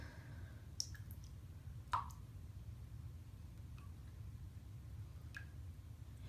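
A few faint, scattered clicks and a soft splash as a bath bomb drops into bath water, over steady low rumbling water noise, the sounds sparse and quiet.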